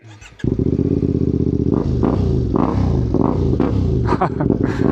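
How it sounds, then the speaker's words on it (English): A CFMOTO 450MT IBEX adventure motorcycle fitted with a full exhaust system, baffle removed, idling loud and close with a deep steady throb and a few quick throttle blips toward the end. "because I've misplaced the bolt for the baffle, we are going baffle out for this one, so prepare yourselves, get your volume knobs ready"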